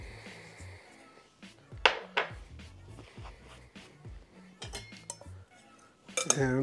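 Utensils scraping and clinking against a bowl while jerk chicken taco seasoning of black pepper and salt is mixed, a string of close, light taps and scrapes.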